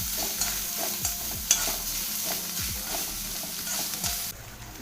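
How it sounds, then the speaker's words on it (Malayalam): Grated coconut fries in oil left over from frying papadam, giving a dense close sizzle broken by rhythmic spoon scrapes against the pan, with no voices. "പപ്പടം വറുത്ത എണ്ണയിൽ തന്നെ നമുക്ക് തേങ്ങ വറുത്തെടുക്കാം"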